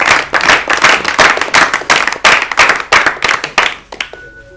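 Studio audience on an Urdu-language literary quiz show clapping in loud, rhythmic bursts, close and punchy, with the pulses gradually thinning and fading toward the end.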